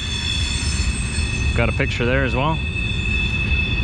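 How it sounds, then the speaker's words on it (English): A train rolls through downtown Winnipeg under steady rumble and high, tonal wheel squeal, while a person speaks briefly over it. "And of course this train is going right through downtown now."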